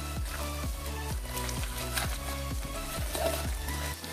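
Shredded chicken floss fries in oil with a steady sizzle, punctuated by regular rhythmic scraping strokes of stirring in the pan, close and moderately quiet without talk.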